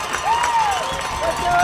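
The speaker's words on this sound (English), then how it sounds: "the crowd springs to life because they know just what kind of upset this is tonight" A football crowd at a Franklin Regional high school game roars and cheers after an upset, a broad swell of noise with a whistle cutting through and an announcer speaking over it.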